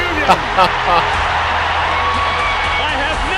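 Capacity crowd at the Miracle on Ice hockey game roaring continuously in a dense, loud wall of cheering, with a few sharper whoops early on and commentator voices talking over it.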